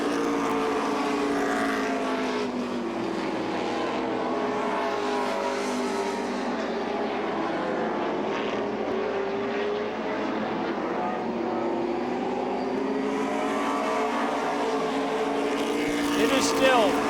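Stock race cars run single file around the asphalt oval at the 2003 Oxford 250, a number 16 Chevrolet among them, their engines a steady, continuous roar with a voice talking over it throughout.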